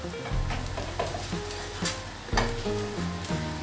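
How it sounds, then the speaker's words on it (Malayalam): Masala pasta seasoned with chicken masala being stirred in a hot pan, a steady sizzle with soft scraping strokes of the spoon, close and continuous without talk. "നന്നായിട്ടൊന്ന് ഇളക്കി കൊടുക്കുക."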